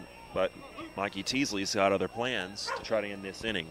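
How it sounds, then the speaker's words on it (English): A dog barks and yips somewhere nearby at a baseball game while someone talks steadily over it, the barking partly buried beneath his voice. "That is a dog barking"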